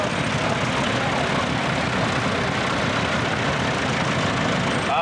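A 1958 45-horsepower vintage tractor engine runs steadily at a steam rally and country fayre, a continuous close rumble with broad noise and no breaks.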